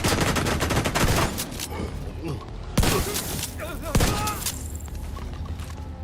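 Rapid bursts of gunfire from a suppression build in Tom Clancy's The Division 2, dense and loud, with sharp impacts at intervals and speech running over them.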